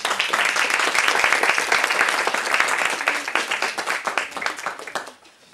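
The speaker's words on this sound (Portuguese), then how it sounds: "Uma salva de palmas." Audience applause at a student music recital, dense steady clapping from a crowd that holds strongly for about five seconds, then thins and fades out near the end.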